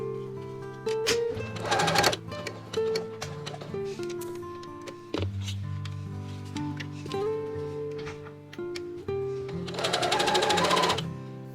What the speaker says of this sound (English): Pivot the needle at the skirt point, sewing into the seam allowance by 1 cm, then down the rest of the skirt side seam.